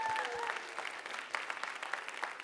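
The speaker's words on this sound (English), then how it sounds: "one last round of applause for our presenters here." A school audience claps for presenters, a steady, dense even patter of many hands at moderate loudness, with a faint voice briefly at the start.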